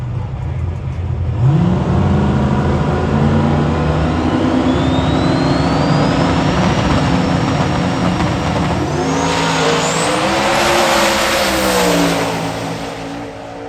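Drag racing cars with small block hemi engines and 98 mm turbos scream down the strip, a loud sustained roar that rises in pitch through the gears, with a second engine climbing and revving near the end.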